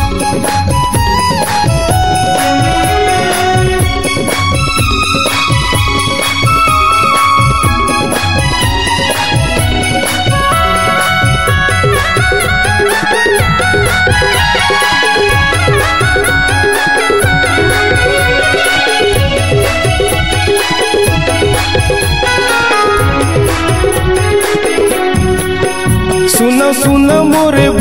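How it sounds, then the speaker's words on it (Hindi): A full rhythmic Chhattisgarhi election campaign song plays loudly and continuously, with a driving beat, layered instruments and melodic lines throughout. "ये चुनाव का ट्रैक है जिसको मैं पूरा आपको सुना के बता रहा हूँ दोस्तों"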